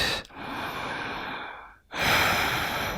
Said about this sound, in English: We'll take 2 more deep breaths in and out.